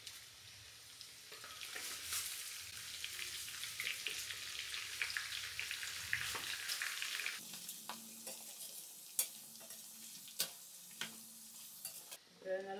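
Prawns with buttermilk chilies and curry leaves frying in oil, a steady close sizzle with stirring scrapes that quiets into lighter crackle and a few sharp clicks toward the end, with no talk.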